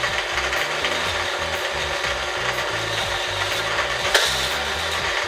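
A K'NEX toy roller coaster car runs along a plastic track and through a launcher with a steady rattling, ratcheting clatter of repeated mechanical clicks, close and continuous, and one sharper snap near the end.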